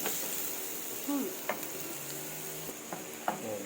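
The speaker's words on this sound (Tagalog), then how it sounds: "Ginisa natin sa butter." Garlic and onion sizzle as they sauté in butter in a pan, a soft continuous frying crackle with a few light utensil taps and scrapes, close and fairly quiet.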